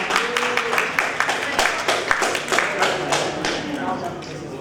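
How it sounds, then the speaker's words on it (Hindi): Applause rings out at an awards ceremony for an honorary award recipient, a dense run of close claps throughout while a presenter speaks over it. "तालियां यहाँ पे एम्बेसडर डॉक्टर सनिपिना जयलक्ष्मी राव जी के लिए"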